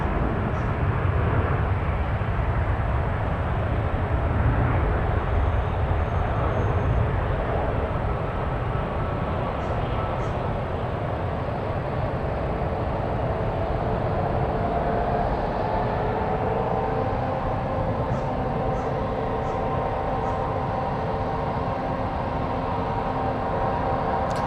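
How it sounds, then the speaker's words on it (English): A Boeing 787-9 Dreamliner takes off at San Francisco, its engines a broad, steady roar held from afar across the whole stretch, with no voices. "All right, Dreamliner taking off."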